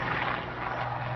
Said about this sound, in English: That's the first helicopter that's ever been here.